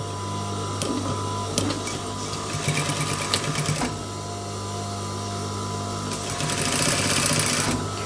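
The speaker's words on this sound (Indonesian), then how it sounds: "Di sini kita jahit sesuai dengan lebar kampuh." A sewing machine runs steadily, stitching the body seams of baggy trousers along the seam allowance. The motor hums loud and close in sustained bursts, with brief pauses and a faster run near the end, and no talking.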